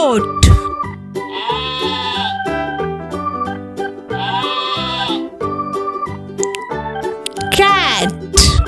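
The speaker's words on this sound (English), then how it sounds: "goat" A goat bleats loudly several times in long wavering cries, spaced across a cheerful children's music backing, with a voice mixed in.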